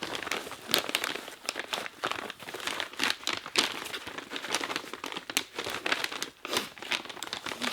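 Packaging crinkles and rustles as a parcel of manga from Mana Books is opened, a close run of irregular crackling, crumpling bursts with a few sharper tearing snaps.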